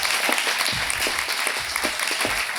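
Conference audience applauding a duo being introduced on stage, dense continuous clapping throughout with a few louder individual claps standing out.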